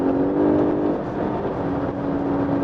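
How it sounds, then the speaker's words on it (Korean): A Lexus LS 500h hybrid sedan with air suspension runs at high speed, giving a steady, loud drone of engine and electric whir with road and wind noise, no voices. "제법 강한 힘 끌어내면서 이렇게 고속 질주를 할 수가 있습니다."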